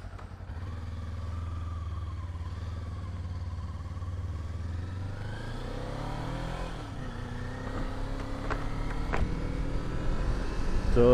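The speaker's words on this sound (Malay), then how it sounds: "Kuatnya motor dia." Kawasaki Modenas Z250 motorcycle engine running on the road during a delivery ride, a steady drone that climbs in pitch as it revs up and grows louder toward the end.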